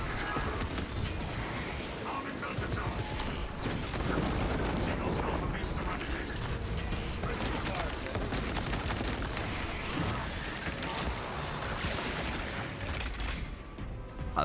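A heroic-variant heavy bolt rifle from a Techmarine explosives build in the Space Marine video game fires in a dense, unbroken barrage, loud booming shots and blasts piling together without pause for the whole stretch.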